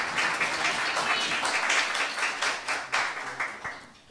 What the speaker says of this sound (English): This is where you